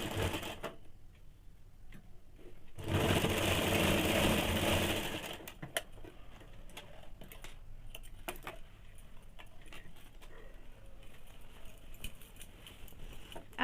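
A sewing machine stitches the folded hem of a heavy petticoat in a quiet indoor setting, with a few seconds of continuous running amid scattered clicks and handling noises.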